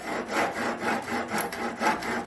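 A handsaw makes an angled cut through a small wooden trim piece, with about five rhythmic, rasping back-and-forth strokes, close and steady.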